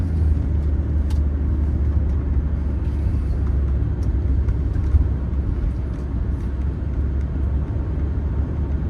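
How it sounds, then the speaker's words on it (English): Mercedes 300SD sedan cruising at highway speed, a steady loud low road and engine rumble with wind and tire noise running unbroken throughout, no talking. "I wanted to just get the car out on the highway real quick to show the road manners that this car has on the highway."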